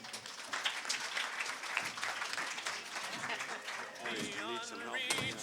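An audience at a 2009 Quantum Leap fan convention applauds a guest panel, a fairly faint, dense patter of many hands, with a voice speaking over it near the end.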